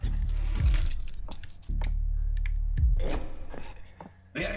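A dropped set of keys is picked up in a video game, a loud close jangle and rattle of metal keys that repeats in bursts over steady game background noise, with no talking.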